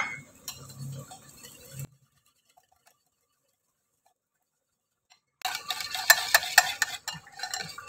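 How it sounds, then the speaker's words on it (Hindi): Gram flour batter being stirred with water into a thick paste for dahi baray, with brisk scraping and stirring in two bursts, a silent gap between them, close and moderately loud. "और हम इसमें पानी ऐड करेंगे और इसकी पेस्ट तैयार कर लेंगे।"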